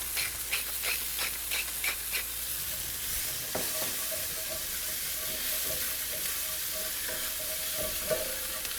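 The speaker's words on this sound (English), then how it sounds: "So I'm throwing in my shallot and my garlic." Shallot and garlic sizzle in a skillet with a loud, steady, close hiss of frying. Early on, a spoon or spatula scrapes and taps the pan several times.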